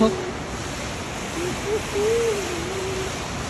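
Water flows steadily at a market in Al Yarmuk, a continuous broadband rush with faint, brief voice-like traces beneath it.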